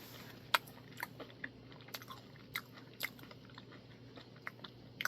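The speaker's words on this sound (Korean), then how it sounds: "마지막 양념치킨을 먹어보겠습니다." Seasoned Korean fried chicken being eaten, faint crunchy bites and chewing clicks recurring irregularly over about five quiet seconds, close to the mic with no talk.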